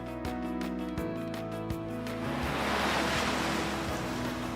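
Gentle sea waves wash in a bay at Cirebon on the north coast, a soft steady surf hiss rising after a stretch of plucked, rhythmic music that carries on faintly beneath the water.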